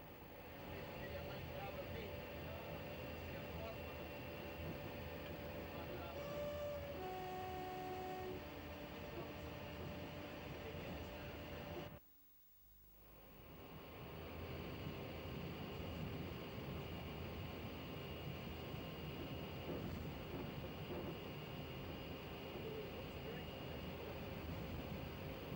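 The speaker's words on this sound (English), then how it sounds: "the train called at Dunkeld before passing through Ivor Tunnel." A train rumbles continuously through Ivor Tunnel beyond Dunkeld, a loud, sustained roar with faint tonal whines that abruptly dips to near silence for a moment before the roar returns at full strength.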